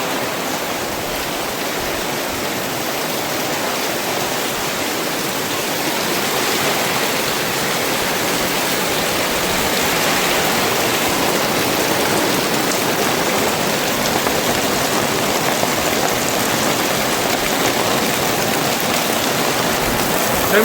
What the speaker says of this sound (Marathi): तर मित्रांनो जोरात पाऊस पडतो एकदम जोरात.